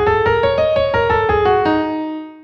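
A blues scale played as separate musical notes, about eight clear tones in a steady stepped sequence, up and back down, with the last note held and ringing out alone.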